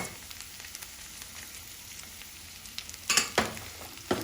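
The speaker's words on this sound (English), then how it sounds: "we'll add all the vegetables and we are going to saute it for 5 to 6 minutes" Chopped vegetables sautéing in a pan with cooked onion for a vegetable dum biryani: a quiet, steady sizzle with soft scraping and stirring, and a few sharper clatters of the spoon against the pan near the end.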